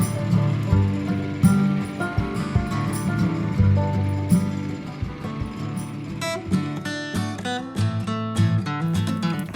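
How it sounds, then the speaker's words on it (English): A Woodland HM122 sawmill makes a pass on a log for quarter-sawn fir lumber, its engine drone and mechanical clatter running loud and continuous, with a harsher, busier ratcheting buzz building in the second half. "So what we're just doing here is making a pass. We'll bring the mill back."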